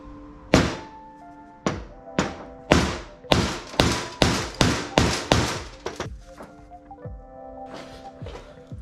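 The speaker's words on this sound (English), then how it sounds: "I'm gonna use this hammer, punch out a couple holes" A hammer strikes a leather hole punch over and over while making holes in a leather strap for a Sportster battery box, about a dozen sharp thunks in quick sequence, loud and close, with a short pause partway through and no talking.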